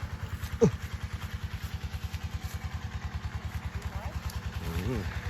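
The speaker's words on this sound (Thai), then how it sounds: "ได้ยินเสียงเครื่องไหมครับ" A small water pump engine pumping water in a rice field chugs steadily at close range with a fast, even putter throughout, briefly joined by a short sharp knock near the start.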